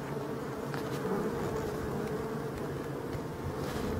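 Honeybees swarm around a stationary beehive in a forest, kept in place for four years, making a dense, continuous drone of buzzing wings that stays steady and close throughout, with no voices.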